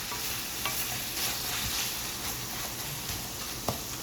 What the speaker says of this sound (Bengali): আদা রসুনটাকে খুব ভালো করে প্রথমে কষিয়ে নিই